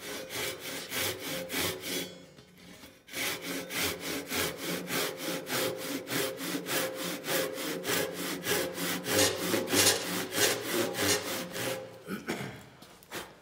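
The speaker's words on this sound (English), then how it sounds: "and then I can start sawing." A hand saw cross-cuts wood in quick, even back-and-forth strokes, close and steady, after a short pause near the start.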